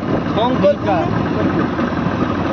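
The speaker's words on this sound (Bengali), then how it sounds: "ওই দেখুন ট্রলারটা দেখুন।" A fishing trawler's engine idles with a steady low rumble near the Digha estuary, where the vessel is sinking; excited shouting voices ride over the constant drone throughout.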